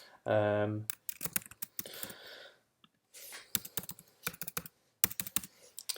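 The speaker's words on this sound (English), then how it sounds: "Let's type it in correctly first of all and see if that actually works." Keys on a computer keyboard tapped in quick irregular bursts of crisp clicks, close and clear, after a brief tonal sound at the start, with pauses between runs of typing.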